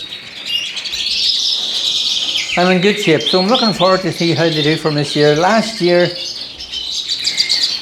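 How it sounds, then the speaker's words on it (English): Caged cock birds, likely siskins, chirp and sing steadily throughout a bird room, with someone talking over the middle part of the birdsong. "So you hear them out chirping and singing away."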